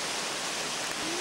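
A stream flowing toward a watermill rushes as steady, broadband water noise, continuous and fairly close, with no voices.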